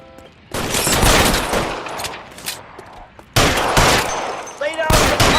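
Bursts of rapid gunfire in the video game L.A. Noire, loud and close, coming in two long volleys with a brief lull between them and no talking over it.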